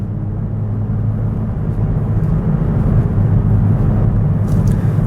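A 2018 Hyundai Elantra GT, over 200 horsepower and in sport mode, pulls hard through the gears with a steady, loud low engine drone that builds slightly through the run, heard from inside the cabin with no talking.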